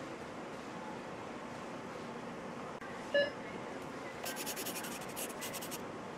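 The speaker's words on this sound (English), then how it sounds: "I guess I'd better write something today." A pen scratches on paper in short, rhythmic strokes over a low background hiss, preceded by a single brief electronic beep, with no voices.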